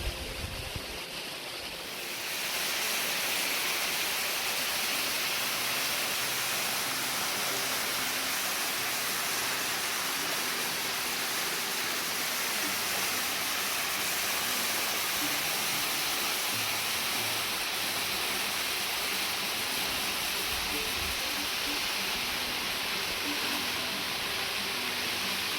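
Thangsning Waterfalls running low on water, a steady broadband rush of falling water that holds close and even throughout, with no voices.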